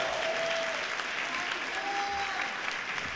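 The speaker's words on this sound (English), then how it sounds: "Yes, round of applause." Sustained applause from a Comic-Con panel audience, steady clapping filling the whole stretch with a faint murmur of the crowd underneath.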